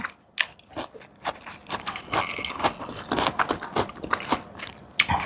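Close crunchy biting and chewing of pickled madan fruit, crisp irregular bites and wet mastication over a few seconds with no talking.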